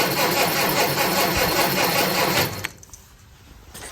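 A Crosley car engine runs with a steady, rough mechanical drone during a first start, then cuts out abruptly, leaving a quiet hiss.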